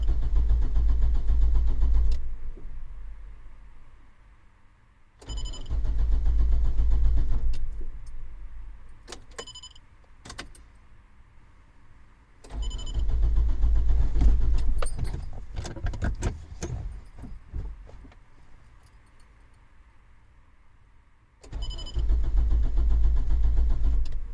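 A car with a restarting fault, suspected fuel pump, cranks in several separate bursts of a few seconds each, loud and close, with quiet gaps, clicks and rattles between attempts.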